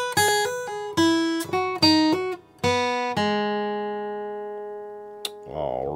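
Flatpicked acoustic guitar playing one measure of the fiddle tune Maydelle's Reel, a quick run of clear, ringing single notes in steady rhythm that ends on a sustained, decaying note, heard alone and close without talk.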